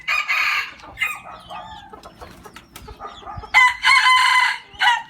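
Roosters crowing loudly nearby, with long drawn-out calls at the start and end and softer clucking in between.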